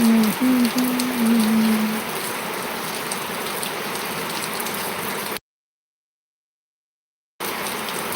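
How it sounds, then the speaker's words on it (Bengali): Steady broadband hiss of heavy rain pouring down, continuous and dense, with a brief mechanical whine at the start and a short silent gap near the end. "কি পরিমাণে বৃষ্টি হচ্ছে দেখো"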